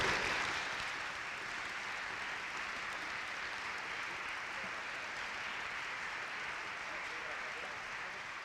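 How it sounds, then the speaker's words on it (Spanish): An audience at a music school presentation event applauds, a dense, even wash of clapping that starts strongest and then holds steady at a moderate level. "Bravo, un aplauso."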